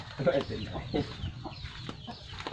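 Chickens clucking inside a coop on a mixed farm, several soft irregular clucks at moderate distance with a low background rumble, no voices.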